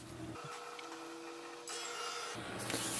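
An HP Envy Pro 6455 printer running a scan, its mechanism giving a quiet continuous whirring hum with faint steady tones that shifts in pitch twice as the carriage moves.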